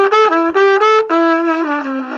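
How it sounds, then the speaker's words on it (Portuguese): A trumpet sounds a sustained tone with a bright, rich harmonic stack, briefly re-articulated a few times and sliding slightly in pitch, loud and close with no talking. "Esse é o som do trompete."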